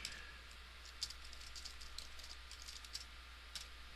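Light, quiet typing on a computer keyboard while entering CSS code, soft irregular key ticks over a faint steady hum, with a few slightly sharper clicks standing out and no talk.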